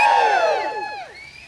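A rambunctious crowd at a rally in St. John erupts in a brief, loud burst of cheering and shouting that fades quickly.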